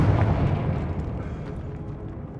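A Confringo fire-blast spell explodes in Hogwarts Legacy with a single deep, rumbling blast that trails off into a fading roar over a couple of seconds.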